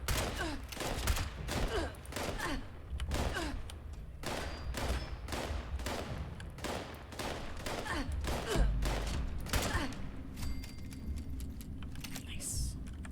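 Repeated gunfire from a gun in Fallout 76, a steady string of sharp shots with short gaps, loud and close over game ambience, with someone talking now and then.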